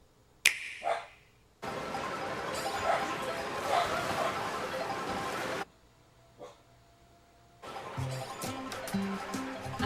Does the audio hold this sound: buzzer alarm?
no